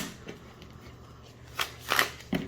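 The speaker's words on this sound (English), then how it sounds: "it still doesn't give me a satisfying riffle shuffle" Bonefire Tarot cards are riffle shuffled up close, giving a couple of quick soft flutters and a brief rustle against a quiet background.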